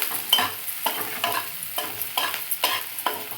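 Potato filling seasoned with Maggi masala is stirred in a pan, giving a series of crisp scraping strokes in a regular rhythm over a light sizzle, close and clear with no talking.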